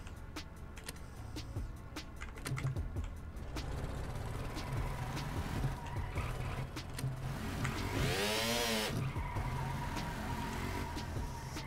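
A truck towing a 36ft camper trailer in the video game Stormworks drives with a steady engine rumble and road noise, rising in a brief whining rev partway through, with someone talking over it.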